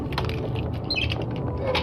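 A door in a Five Nights at Freddy's animation creaks slowly open, a short grinding, squeaky mechanical groan heard close and loud over a low rumbling background.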